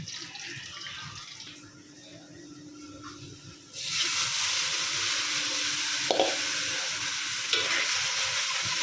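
Quiet at first, then a loud, steady sizzle erupts as fish hits hot oil in a thin pan, frying continuously with a few faint clinks.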